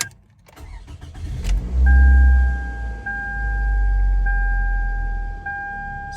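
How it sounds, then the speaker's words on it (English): A 2009 Toyota Camry cranks and fires up, then settles into a steady, close idle with a low rumble and a faint high whine. A few thuds and rattles come just before. "Alright, so start the car."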